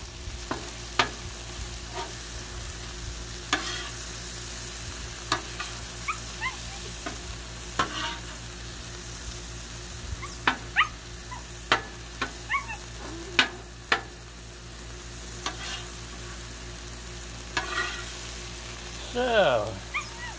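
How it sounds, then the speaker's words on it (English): Ground beef and sausage sizzle steadily on a Blackstone griddle, with repeated scraping and tapping of a spatula, a brief dog whimper near the end, and some talk in the background. "our ground beef and sausage mix is coming along nicely. Still a little bit of pink."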